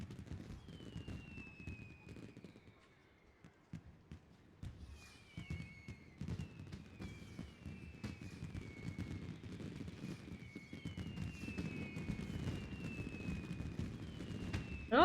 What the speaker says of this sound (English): Look at all those fireworks. It's like the grand finale.